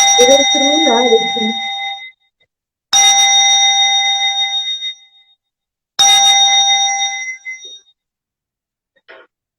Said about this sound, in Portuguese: eu até trouxe, né, o sino para fazer o Namyo Renge Kyo